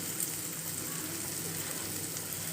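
Chilli chicken sautéing in a pan for chilli chapathi, giving a steady soft sizzle and frying crackle that runs evenly throughout at low level, with no one speaking.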